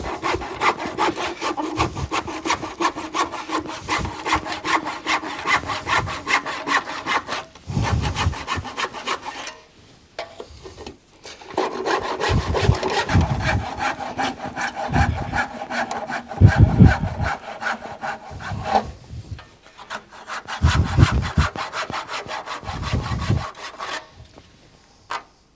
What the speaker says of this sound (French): un petit coup de scie égoïne